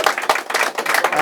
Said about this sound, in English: We should give a clap for Sandy.